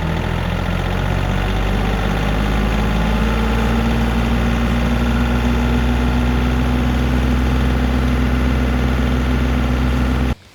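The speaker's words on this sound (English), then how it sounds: "Then you have to rev up the throttle all the way up till you hit 540." John Deere tractor with a 3-point PTO-driven snow blower, engine throttled up to 540 PTO speed: a loud, steady, heavy diesel drone with constant vibration throughout, cutting off abruptly at the very end.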